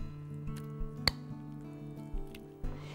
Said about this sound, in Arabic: صوت المعلقه ده في الحله بيتعب لي اعصابي